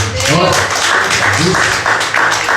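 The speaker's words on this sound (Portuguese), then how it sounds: "Dá mais uma salva de palmas para Jesus" Church congregation at a mission service applauding together, dense steady clapping with voices mixed in throughout, fairly loud and close.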